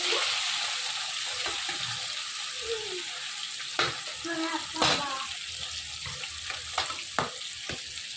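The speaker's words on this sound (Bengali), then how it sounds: "মাছ ভাজা একটা হয়ে গেল" Steady sizzling of fish frying in hot oil, with occasional clinks and scrapes of a utensil against the pan.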